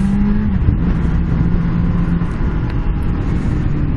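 A large car passes close by a moving motorcycle on the road, its loud rumbling engine and rushing wind noise continuous and near throughout, with no speech.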